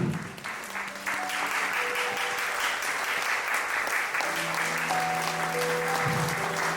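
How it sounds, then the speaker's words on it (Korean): Wedding guests applaud as the bride greets them at a Mullae wedding hall, a steady wash of clapping with faint background music tones running underneath throughout. "여러분 다시 한번 따뜻한 축복의 박수 부탁드립니다"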